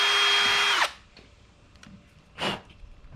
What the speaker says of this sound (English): So if we drill that out,